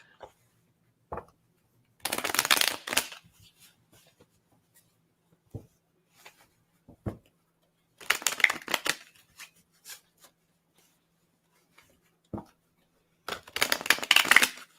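Tarot cards shuffled at a table in three separate bursts of riffling and flicking, with a few soft taps and card placements in the quiet gaps between.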